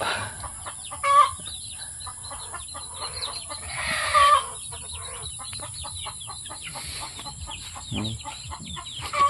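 Free-roaming backyard chickens and young chicks cluck and peep steadily, with a few louder calls standing out over a constant outdoor hiss.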